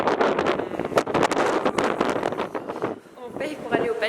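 Outdoor wind near the Palais des Papes buffets the microphone in a steady, rumbling roar that rises and falls, with voices talking toward the end.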